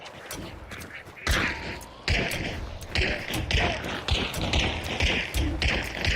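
Repeated gunshots in an online shooter game played on PC, sharp bursts and sporadic volleys recurring throughout at steady loudness, with a player talking over the action.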